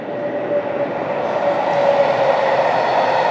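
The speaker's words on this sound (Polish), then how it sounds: "Pociąg" A fast city rail train near Chorzów, bound for Wrocław, passes close by with a loud, steady rolling rumble and a faint metallic whine. The sound builds slightly toward the end, with no voices.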